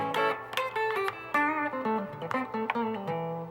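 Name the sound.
clean tone of American Deluxe Fender Strat through Princeton Reverb clone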